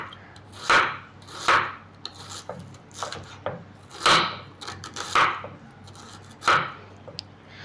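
Knife chopping onion on a wooden chopping board, with a series of sharp, irregular close-up thuds and slicing scrapes, some cuts louder than others, with no talking.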